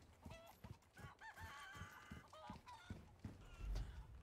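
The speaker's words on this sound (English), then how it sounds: "I love these stock chicken sounds." Chickens in the Resident Evil 4 video game, stock sounds of clucking and squawking calls that repeat in quick bursts, quiet and alone with no talk.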